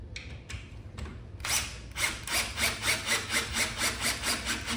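A power drill drives a screw into eucalyptus wood patio furniture: a few short bursts, then a sustained whirring grind that pulses rhythmically as the screw bites.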